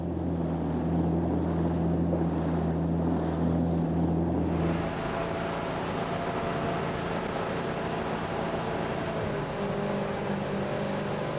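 A jetski engine drones steadily as it heads out of the harbour, a low continuous motor hum that shifts into a rougher, wind-buffeted rush with water spray partway through, close and constant.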